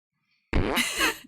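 A single short, close fart noise from rats in a video game, a brief buzzy burst of just under a second after silence.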